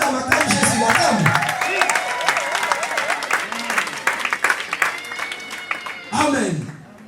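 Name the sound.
wedding congregation applauding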